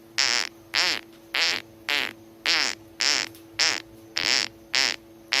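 A fart sound effect, set off by a $5 donation during a live stream, repeats ten times in a steady rhythm, each burst about half a second long with short gaps, loud and clear with no talk over it.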